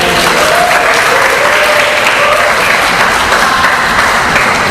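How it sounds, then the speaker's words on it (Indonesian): Loud, sustained applause from a large audience at a motivational talk on mindset, a thick continuous wash of clapping with faint crowd noise, steady throughout. "Tepuk tangan dong buat saya."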